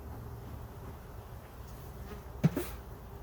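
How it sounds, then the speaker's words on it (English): Honey bees buzz faintly around hive frames as smoke is puffed over them, a soft steady hum with a brief clunk near the end and no voices. "Let's get a little smoke on these bees"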